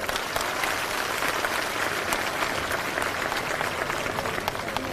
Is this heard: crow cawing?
no